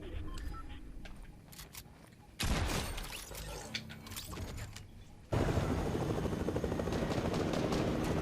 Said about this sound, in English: I got hit by the helicopter.